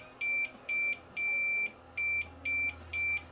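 A multimeter checks continuity across the filament pins of an antique tube radio, giving six short, clear electronic beeps in an uneven rhythm over a faint background hum.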